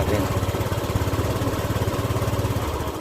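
A Honda Click 150 scooter engine with a hard-start, loss-of-compression fault runs steadily at idle close by, a continuous rapid low chugging rhythm with no other sound over it.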